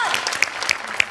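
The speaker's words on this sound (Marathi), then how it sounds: "अमोल पाटील साठी टाळ्या" A studio audience at a Marathi comedy show applauds for a performer, a brief burst of scattered claps.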